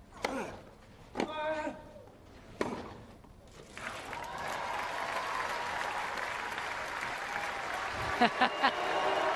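A few sharp hits and bounces of a clay-court tennis rally at the 2012 French Open give way to broad crowd applause that swells and holds steady, with a few louder claps near the end.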